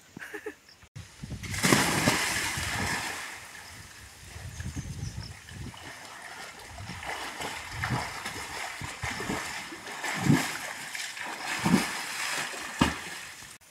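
Water splashing and sloshing as someone swims alone in a village well, with irregular strokes and surges of splashing close by, a few sharper splashes toward the end.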